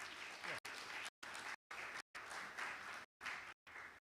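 Audience clapping at a conference session sounds faint and steady, cut into short bursts by repeated abrupt gaps of silence.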